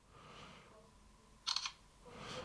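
A Doogee Mix 2 phone camera takes a picture, giving one short, faint electronic shutter click in a quiet room.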